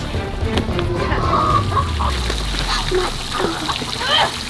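A chicken clucks and squawks while being chased around a duck pond, with splashing water and people talking and shouting over the commotion.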